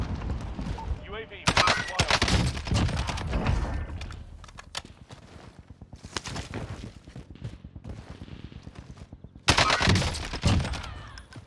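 SCAR rifle gunfire in the video game Call of Duty Warzone, with loud bursts of rapid automatic shots coming in clustered volleys and short gaps between them.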